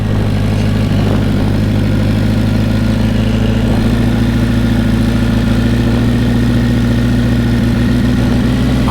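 A BMW K100 motorcycle engine idles steadily and loudly up close, its low, even throb continuous throughout with no voices over it.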